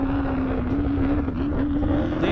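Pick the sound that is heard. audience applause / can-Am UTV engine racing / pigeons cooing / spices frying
can-Am UTV engine racing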